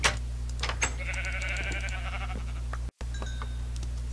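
Sheep bleating in the Minecraft video game, a clear drawn-out bleat near the start followed by a second fainter call, over a steady low hum with a brief dropout to silence.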